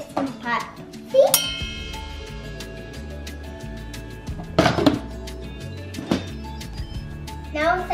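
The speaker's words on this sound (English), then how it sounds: "Now secure the lid with the Instant Pot." An Instant Pot lid is locked into place in a home kitchen, giving a metallic clink and a ringing chime, followed by more clatter and a second bright ping, with a voice talking intermittently.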